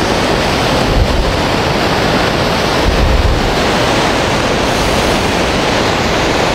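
Tosna waterfall, a Niagara-type fall, rushes as a loud, steady broadband roar of falling water with occasional low wind buffets on the microphone, no voices over it.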